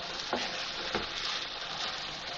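Chicken and cheese stuffing being stirred in a hot pan, a continuous bright sizzle with two soft scraping strokes of the spoon standing out early on.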